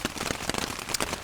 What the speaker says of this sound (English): I pushed on, and the rain just got heavier